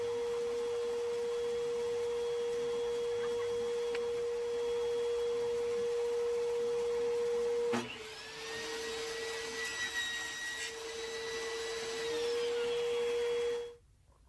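A power saw or cutter runs with a steady tonal whine while wooden moldings are cut at a 45-degree angle for an outdoor plant stand. Midway it strains into the cut with a rising pitch, then spins down and stops, with no talk.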